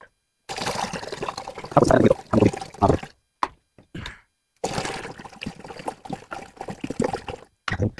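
Water pours in uneven bursts into a home fish aquarium during a water change, the gushing and splashing stopping and starting with short pauses between pours.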